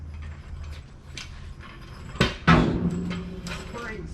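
A jack lowers a 1965 Chevrolet C10 truck with no engine in it, clicking and clunking mechanically, then letting out two sharp metallic knocks as the weight settles, heard up close.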